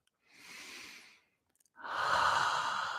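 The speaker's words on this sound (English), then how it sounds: "You take a deep and clearing breath and let go." A slow, deep breath drawn in and then released in a long, audible exhale during a guided meditation, close and quiet with a short pause between inhale and exhale, no talking.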